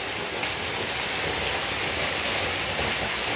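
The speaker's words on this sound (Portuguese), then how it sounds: "Chuva boa, galera, por aqui." Heavy rain pours down in Acopiara, Ceará, Brazil, in a dense, constant, close roar of water with no pauses or voices.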